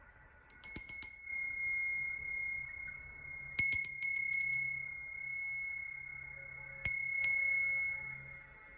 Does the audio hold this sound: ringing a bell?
yes